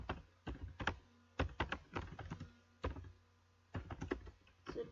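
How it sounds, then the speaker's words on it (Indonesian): Typing on a computer keyboard in close, irregular clusters of soft key clicks with brief pauses between bursts, quiet and with no voices. "mengetik pada keyboard"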